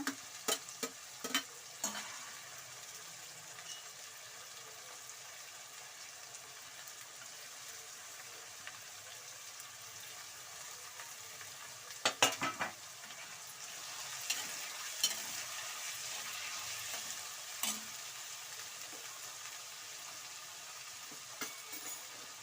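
Carrots, beans and capsicum stir-fried for uppit, a steady close sizzle and hiss with scraping stirs against the pan, and a few louder clatters along the way.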